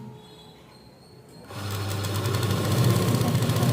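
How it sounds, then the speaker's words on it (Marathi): A sewing machine runs up a double line of stitching on a blouse cross-strip, starting after a quiet pause and then humming in a steady, close, rapid whir that grows slightly louder. "ते क्रॉसपट्टी जोडताना सिंगल शिलाई न घालता आपण डबल शिलाई घालून घ्यायची"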